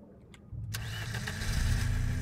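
A car engine cranks and catches in 7 Days to Die, a short click and starter burst followed by the motor settling into a rough, building idle, fairly quiet and with no talk.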